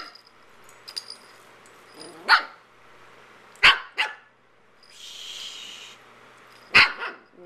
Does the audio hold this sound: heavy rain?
no